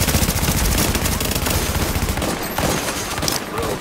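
Dense automatic and machine gun fire in the video game The Division, with rapid overlapping bursts sustained loudly and continuously from start to finish, no talk over it.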